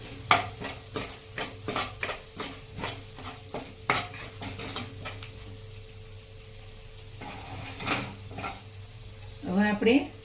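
A spoon stirs Kashmiri chili powder, garam masala and amchur into a cooking base in a pan, tapping and scraping in quick clustered strokes over a soft sizzle, with a quieter stretch midway and a faint voice in the background.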